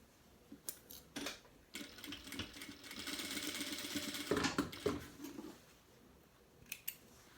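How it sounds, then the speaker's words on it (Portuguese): A sewing machine runs a safety seam along a fabric car trash bag, its steady whirring stitch building through the middle with a few short sharp clicks and snips at the start and end. "E vou de novo passar uma costura de segurança."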